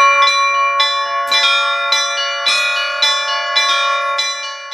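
Church bells ring out in a rapid, rhythmic peal, with about a dozen clear metallic strikes played by children at a bell-ringing lesson, loud and close with long ringing overtones.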